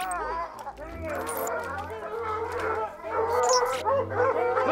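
Hunting dogs bark, yip and whine excitedly before a cougar hunt in logged mountain country, a busy, overlapping chorus of close barking with people talking over it.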